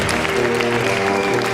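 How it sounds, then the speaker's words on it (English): Audience applause at a live stage show, a steady patter of clapping heard over sustained musical tones and some speech-like sound. "You can applaud for that."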